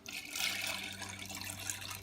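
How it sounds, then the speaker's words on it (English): A cup of water is poured onto dry macaroni noodles in a microwave mac-and-cheese dish, a steady close splashing pour lasting about two seconds with no one talking. "And 1 cup of water."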